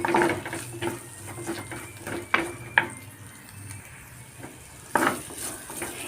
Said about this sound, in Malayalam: ഇനി ഇതിലേക്ക് ഞാൻ സവോളയാണ് ഇട്ട് ഇട്ട് കൊടുക്കുന്നത് നന്നായിട്ട് വഴറ്റി എടുക്കാം